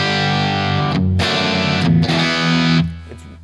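Electric guitar played through an overdrive pedal, either a Wampler Pantheon or a Fulltone Full-Drive 2, ringing out thick sustained distorted chords with short breaks between them. It plays alone with no voice and fades at the end.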